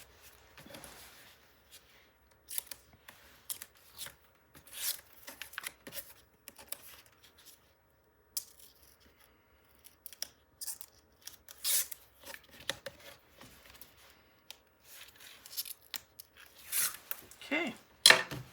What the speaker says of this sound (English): I'm going to pull the rest of this paper out.